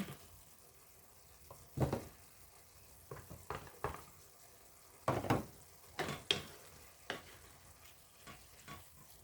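Kangkong cooking in a pan with bagoong as the boiled stems are added, a soft sizzle under irregular scraping and stirring knocks from a utensil, close and fairly quiet, with no voices.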